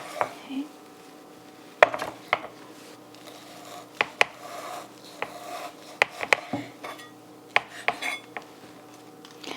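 A knife slicing beef across the grain for Filipino beef tapa, heard as a steady series of sharp clicks and taps against a cutting board, spaced irregularly over a quiet kitchen background with no talking.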